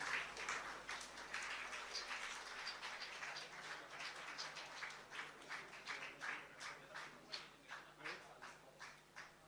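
An audience at an annual community gathering applauds scholarship students, a steady run of many hands clapping at moderate loudness that thins into more distinct claps toward the end.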